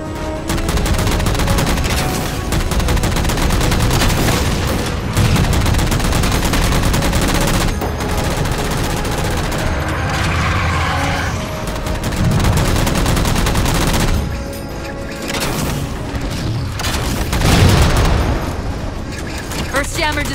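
Sustained gunfire in the Halo Master Chief Collection story mode as jammers are shot down: dense, loud bursts of shots run throughout, mixed with booms and battle noise under game voices.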